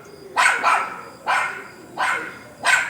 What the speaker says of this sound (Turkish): bahçemizde bir kurt köpek geziyor.